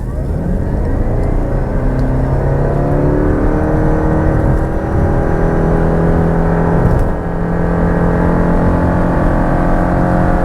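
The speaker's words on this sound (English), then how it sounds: "Now, I do want to try a quick 0 to 60, so we have a quick straightaway," A 2026 Subaru Crosstrek Hybrid pulls hard from a standstill to 60 mph, its engine drone loud and steady and climbing in pitch through the gears, heard from inside the cabin without talk.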